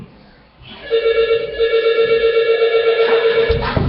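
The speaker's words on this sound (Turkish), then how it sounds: "Telefon çalıyor bir bakayım." A telephone bell rings loudly and continuously for about three seconds, a bright tonal trill up close, ending abruptly.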